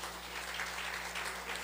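A church congregation applauds during a Sunday celebration service: a steady, dense wash of clapping from many hands that holds at an even level for under two seconds.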